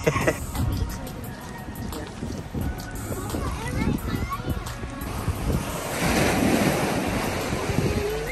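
Ocean waves at Sullivans Island beach in Charleston, South Carolina, a continuous surf wash with gusty wind buffeting the microphone, swelling louder toward the end while people talk over it.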